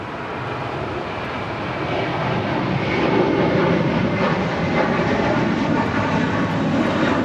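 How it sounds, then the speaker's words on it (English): A Southwest Airlines Boeing 737 MAX 8 jet arrives at LAX from Chicago Midway. Its engines give a loud, steady broadband roar that swells slightly partway through and holds for the whole stretch, with no talk. "That is Southwest Airlines Flight 290 coming in from Chicago Midway on a MAX 8"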